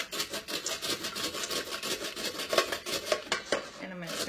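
A handheld veggie strip maker slicing vegetables into small strips with a steady back-and-forth motion, producing a run of close, rhythmic scraping and clicking strokes that grow sharper and more distinct toward the end.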